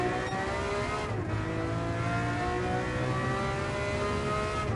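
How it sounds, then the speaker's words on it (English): A Dodge Viper race car in Gran Turismo 7 overtakes, its engine note rising and sliding in a steady, high-revving whine, with other racing engine drone underneath and no talk. "Probably heard the Viper has just overtaken me."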